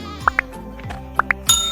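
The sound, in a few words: goat bleating on a jungle path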